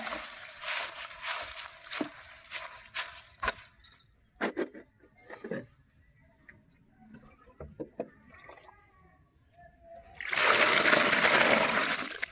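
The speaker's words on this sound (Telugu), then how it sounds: "ఇటు ములిగినంత వరకు వాటర్ పోసుకోవాలి." Scattered splashes and clinks, then a steady rush of water being poured near the end, loud and close.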